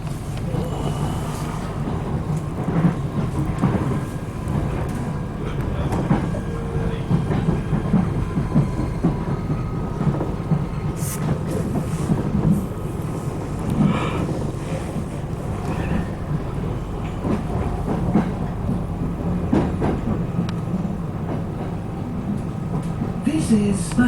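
A Merseyrail train runs past Birkenhead depot with a steady rumble and rushing wind noise throughout, heard from on board, with scattered clanks and creaks along the way.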